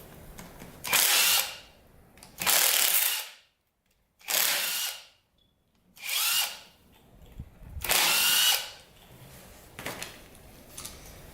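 A power tool, likely a drill, runs in six separate bursts of a second or so each, with short pauses between, while reed valves are taken off a destroyed Honda dirt bike engine.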